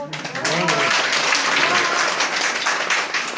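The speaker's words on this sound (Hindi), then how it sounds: "जरा आपकी तालियां बताएंगी।" Dense applause from an audience after a dhol performance at a cultural program, steady and loud throughout, with a brief voice at the start.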